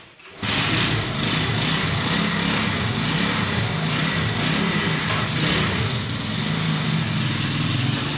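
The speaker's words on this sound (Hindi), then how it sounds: "बाइक चलाने जा रहे हैं, जो कि इसे चलाना नहीं आती" A motorbike engine runs steadily and loudly throughout as the bike is ridden in circles around a house by a novice rider, with a constant droning hum that starts abruptly after a brief quiet moment.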